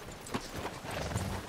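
Horse hooves clopping in Red Dead Redemption 2, a short run of soft thuds beneath dense game ambience.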